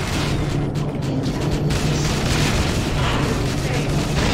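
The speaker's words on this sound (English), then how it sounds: "I'm going to explode from the radiation." Video game explosion heard as a loud, sustained booming rumble with crackling bursts, close and filling the whole stretch without letting up.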